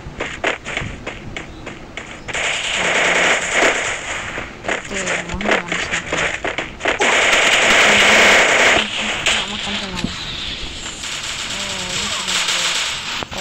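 Gunfire in the Free Fire mobile battle game, bursts of rapid shots and pops over game sounds, with a person talking at times over the action.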